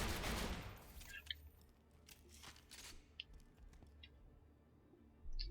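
Hyperion shotgun from Borderlands 2, a long-magazine red-text weapon, fires a burst of shots at the start, followed by scattered impacts and pickup clinks against a steady game background.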